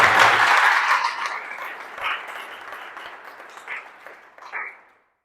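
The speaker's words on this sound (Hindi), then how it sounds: "एक बार जोरदार तालियां बजाकर" A poetry-recital audience at a Hindi kavi sammelan breaks into loud, dense applause that gradually thins into scattered clapping and fades out.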